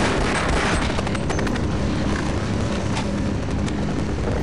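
Dense, continuous gunfire from Half-Life with rapid overlapping shots and booms. It stays loud and steady throughout and masks everything else.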